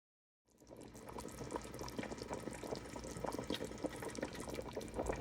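Water pours steadily into a cooking pot holding bones for a collagen-rich Ghanaian soup broth, a continuous close splashing rush that starts abruptly and runs without talk.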